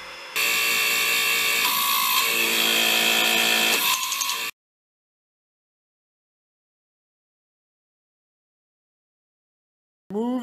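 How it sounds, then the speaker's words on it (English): Hydraulic torque wrench driven by its pump, ratcheting through a stroke: a loud dense mechanical whir and rattle for about four seconds, then silence, with a brief burst returning at the very end. "engage the pump and the unit will begin to ratchet"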